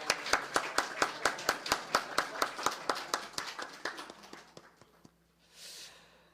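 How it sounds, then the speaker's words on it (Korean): A church congregation claps together in unison to welcome an elder, a slow, even rhythm of sharp claps that gradually softens and thins out before fading, with a faint breathy sound at the end. "우리 같이 환영의 박수 드리겠습니다."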